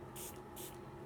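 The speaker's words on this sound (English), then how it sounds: "now I'm going to go in with the Tarte Stay Spray setting spray" Two quick pumps of Tarte Double Duty Beauty setting spray hiss out of the bottle close by, each a short airy burst, with a faint low hum beneath.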